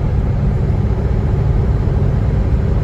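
A 1939 DeSoto S-6 touring sedan drives along with a steady, loud, low engine and road rumble that holds constant throughout, with no voices.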